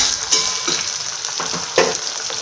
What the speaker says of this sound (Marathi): गॅस फुल करून घ्यायचा आणि थोडं अशा फ्राय करून घ्यायच्या भाज्या आपल्याला